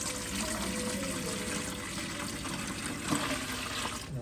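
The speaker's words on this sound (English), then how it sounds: "Okay, place the water here," Water pours steadily into the tank of a smart hybrid ultrasonic humidifier, a continuous close splashing trickle lasting the whole clip with no talk.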